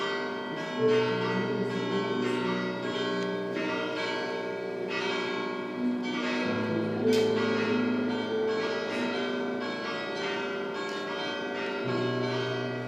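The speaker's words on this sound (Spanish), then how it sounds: "Nunca suenan las campanas a esta hora" Church bells ring continuously with rich overlapping tones, a steady peal of several bells sounding together, fairly loud and unbroken for the whole stretch.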